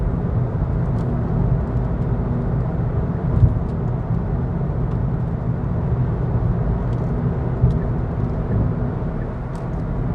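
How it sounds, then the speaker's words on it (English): A Hyundai Ioniq 28 kWh electric car on winter tires hurries along a road toward Geilo. From inside, a constant low tire and road rumble drones with only faint clicks above it and no talk. "you can probably hear that the classic Ioniqs, they are a little bit noisy, even especially, I mean, despite having winter tires"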